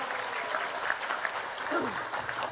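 An audience at an Eid al-Fitr religious study gathering gives a soft, sustained round of clapping, moderately distant, with faint background voices mixed in.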